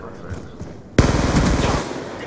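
An S12 shotgun fires in Call of Duty: Black Ops 2, a sharp, loud blast breaking in after a stretch of quieter game noise, followed by a rapid burst of repeated gunfire that fades slightly toward the end.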